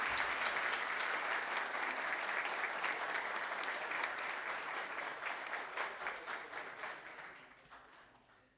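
Audience at a presidential swearing-in ceremony for new cabinet members applauds strongly, a full hall of clapping that holds steady and then gradually thins and fades away.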